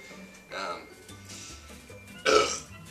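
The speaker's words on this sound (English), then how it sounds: "That was a burp of hate." Two burps after drinking an energy drink, a shorter one followed by a louder, longer one, close up with quiet room noise between them.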